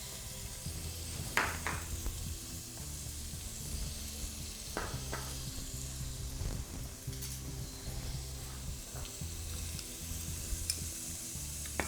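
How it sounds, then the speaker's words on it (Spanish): White vinegar is poured into a pot for a pickling syrup for red onion, giving a steady, soft hissing wash with scattered light clinks and knocks. No one speaks. "un almíbar para encurtir la cebolla morada. Se echa vinagre blanco"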